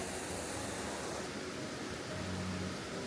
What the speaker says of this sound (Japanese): ここはちょっとした滝になってます。